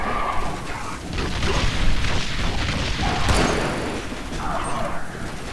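Artillery strike explosions in The Bureau, a run of deep booms and rumbling blasts under continuous battle noise, loud and dense for several seconds.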